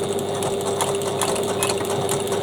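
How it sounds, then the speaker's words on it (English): Sewing machine triple stitching the top of a bag's slip pocket, a continuous close mechanical whir with rapid needle ticking throughout. "and I just triple stitch to anchor the top of the pocket."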